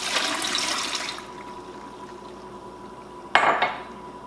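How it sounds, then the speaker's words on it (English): Water poured into a pot of sliced beets for canning orange thyme beets, a steady splashing wash for about a second, then a quieter pause and a brief clattering burst near the end. "We're going to put 3 1/4 cups water in the pot."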